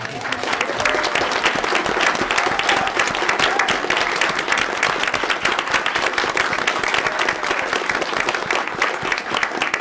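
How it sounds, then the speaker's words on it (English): Audience applause fills a school board meeting as assistant principals stand to be recognized, a steady dense clapping from a roomful of people that holds at an even level throughout. "would you please stand for a quick round of applause?"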